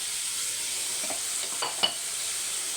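Onions sautéing in a pan for egg biryani curry, a soft steady sizzle with a few spoon scrapes and clinks near the end, no talking.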